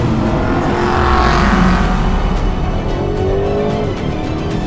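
A 2025 Aston Martin Vantage engine roars loudly and steadily throughout, with its pitch sliding and rising as the car accelerates past.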